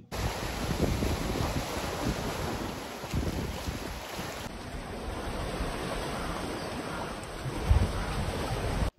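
Steady, loud wind buffets the microphone on the beach at Mousuni Island, with a continuous roar of sea waves underneath and no voices.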